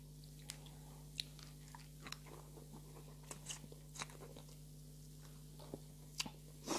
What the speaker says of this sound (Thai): กัดก้ามปู